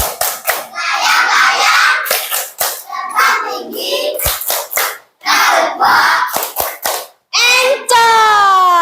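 Classroom of children performing the tepuk Spiderman clapping game, loud chanted phrases alternating with sharp rhythmic hand claps in quick bursts, closing with a drawn-out shouted call.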